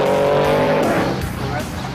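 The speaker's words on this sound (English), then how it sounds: "The first to start are the so-called trophy trucks." Off-road trophy trucks with up to 7-liter, 850-horsepower engines roar loudly off the starting grid at a desert race, the engine noise broad and sustained for the whole stretch, with a voice talking over it.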